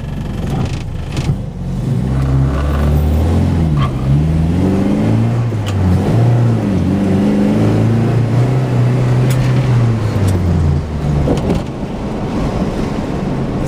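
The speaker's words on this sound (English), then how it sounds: "give you a little test drive here" Engine of a Volvo 1800S on a test drive, a steady droning hum that rises and falls in pitch as it accelerates and shifts, with constant wind and road noise around it.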